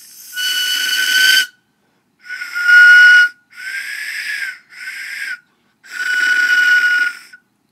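A ceramic skull-shaped death whistle in umber float glaze is blown in five separate breathy, shrieking blasts with short pauses between them. Each blast is loud and harsh, with a hissing edge, and no one speaks.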